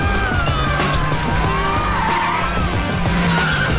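A pizza delivery car drifts with its tires skidding in a long, continuous screech over a revving engine, loud and close throughout.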